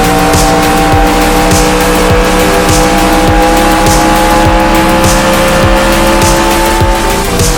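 Race car tires locking up and squealing in NASCAR Racing 2003 at Chicagoland Speedway, heard as a loud, steady engine drone with rapid repeating pulses throughout, no voices.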